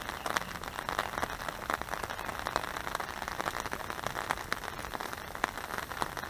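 Rain patters steadily on a surface nearby at a feeder fishing championship, with irregular individual drops ticking over a soft continuous hiss, no voices.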